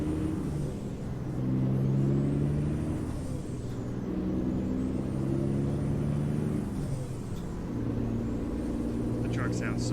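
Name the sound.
truck engine running in a video game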